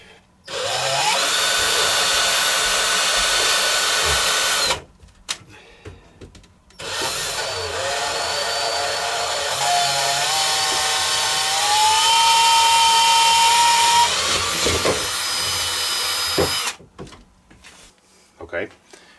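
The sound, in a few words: power drill drilling a pilot hole in RC boat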